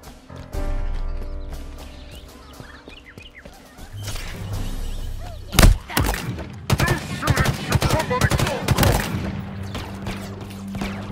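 Rapid bursts of gunfire from the Halo Infinite video game crackle in clustered volleys over a low musical drone. One sharp loud report lands midway, and the shooting then continues densely.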